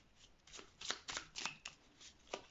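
Oracle cards are shuffled and drawn from a deck, making quick papery riffles and soft slaps in irregular bursts. The sound is close and fairly quiet, with no speech.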